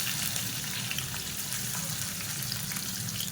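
Sliced large onions fry in hot oil in a pan with a dense, continuous sizzle and crackle at close range and no talking.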